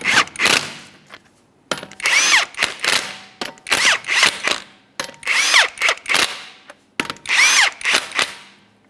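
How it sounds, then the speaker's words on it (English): A power tool spins 21mm lug nuts onto a 2011-2020 Toyota Sienna wheel in five separate whirring bursts, each winding up and rattling for about a second, close and loud with short pauses between. "Start on all 5 of your 21mm lug nuts, bottom them out."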